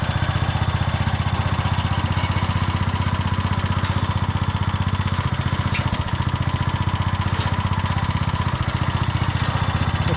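A Cub Cadet 106 garden tractor, revived after sitting unused for a long time, runs with a steady, close, loud engine idle and an even rhythmic chug that holds throughout without pause.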